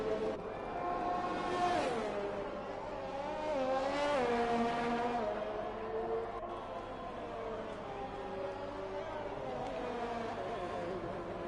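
F1 cars racing at Japan in the video game F1 2021, engines whining and shifting pitch as cars accelerate, with commentary voices talking over the engine noise throughout.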